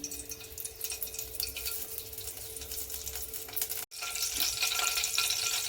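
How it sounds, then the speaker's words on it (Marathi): Hot oil sizzling in a pan over a low gas flame with curry leaves, a steady crackling fry that carries on without talk and swells a little louder after a short break near the end. "आता तीन चार चमचे तेल घालून घेते"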